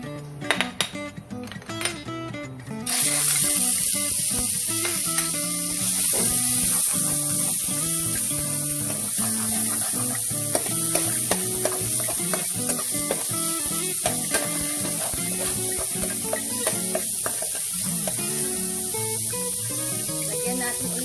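Chicken meat frying in oil in a pan for a sotanghon soup, a steady loud sizzle that starts abruptly after a few seconds of handling noises and continues throughout, with music playing underneath.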